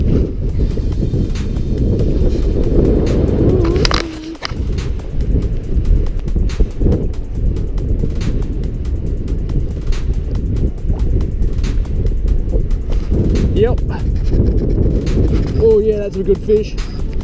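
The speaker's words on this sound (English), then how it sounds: "it is very windy" Strong wind gusts at the ocean during a fishing session, a loud continuous low roar buffeting the microphone with brief dips, and someone speaking under it.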